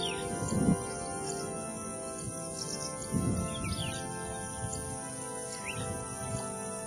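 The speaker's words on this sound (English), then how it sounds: "The bird sings with a rich whistling note mixed with chirps." A rufous-tailed lark, also called finch lark, sings outdoors with faint whistles and chirps scattered across the clip, alongside low rustling bursts and steady background hiss from insects.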